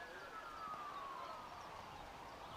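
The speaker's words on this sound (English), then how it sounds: "Sirens in the background." Sirens from a fire truck at a night T10 cricket match in Belgium, a faint distant wail sliding slowly downward, barely audible beneath steady background ambience.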